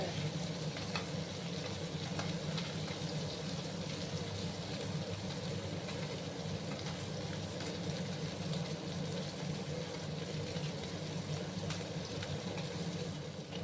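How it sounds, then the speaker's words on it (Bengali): Tangra fish frying in hot oil for tel jhal, giving a steady, even sizzle that holds without pause at moderate loudness. "উল্টে পাল্টে আমি মাছগুলোকে ভেজে নেব"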